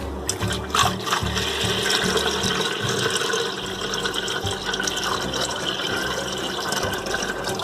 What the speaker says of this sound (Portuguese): Então a primeira coisa que você vai fazer é colocar 1 litro de água.